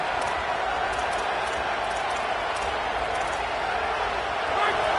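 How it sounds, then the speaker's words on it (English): A stadium crowd at a football game roars steadily behind the defense on third down, a loud, sustained wash of cheering that swells slightly near the end. A commentator's voice may run beneath it. "Decibels rising as the crowd gets behind this defense on 3rd down."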